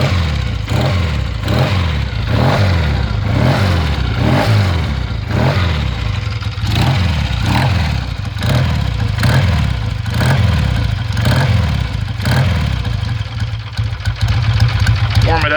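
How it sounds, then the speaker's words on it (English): A 1966 Triumph T120R motorcycle, started from cold, settles into a loud, close, lumpy twin-cylinder idle with a steady uneven pulse and a few light throttle blips throughout. "That's literally all you have to do to start this bike."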